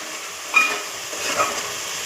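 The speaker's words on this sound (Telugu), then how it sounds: "ఇది కొంచెం గోల్డెన్ బ్రౌన్ లాగా వేగాలి ఉల్లిపాయ పేస్ట్." Onion paste with a little salt fries in a pan, a steady soft sizzling hiss close up with a couple of small pops, no talk.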